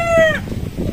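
A rooster crows loudly and close by, one harmonic call lasting under half a second, followed by a low rumble of background noise.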